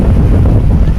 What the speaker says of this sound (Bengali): বিভিন্ন স্থানে বৃষ্টি ঝরছে, সঙ্গে দমকা হাওয়া